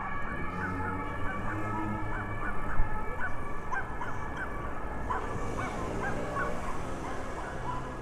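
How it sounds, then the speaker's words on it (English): A small dog yaps repeatedly in quick, sharp barks, fairly loud, over a steady background rumble of a Paris street at night. "I hear the dog loud"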